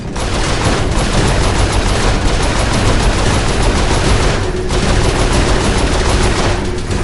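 Sustained rapid turret gunfire from a vehicle-mounted gun in the Saints Row 4 video game, a dense unbroken automatic roar at high, steady loudness for the whole stretch.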